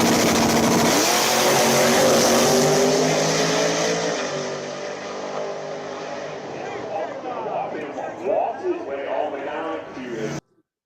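A nitrous-fed drag racing car with a TRE 588 cubic-inch X275-legal motor roars at full power, a loud sustained engine note that gradually fades into crowd chatter and voices before cutting off.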